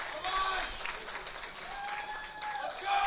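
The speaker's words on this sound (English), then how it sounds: "So she's asking for support from the crowd." A crowd at a masters world powerlifting championship applauds and cheers a lifter before her deadlift, a brief, moderately distant burst of clapping mixed with commentary.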